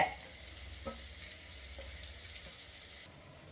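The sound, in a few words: slit green chilies added to hot pan, frying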